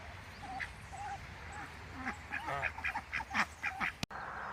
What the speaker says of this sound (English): I'd say the birds are happy.